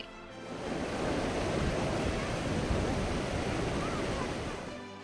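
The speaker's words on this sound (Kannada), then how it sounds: "ಚಿಕ್ಕೋಡಿ ತಾಲೂಕಿನ ಕೃಷ್ಣೆ ಉಕ್ಕಿ ಹರಿತಾ ಇದ್ದಾಳೆ" Dense, constant roar of the flooded Krishna River in Chikkodi taluk, Belagavi district, Karnataka, loud and close, holding steady as the swollen river surges past with no voices.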